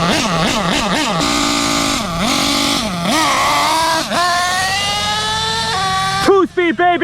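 A Losi LST RC car with a Dynamite .28 nitro engine screams at high RPM on an open road, wavering up and down, then climbing through a shift before chopping into short, sharp revs at the close.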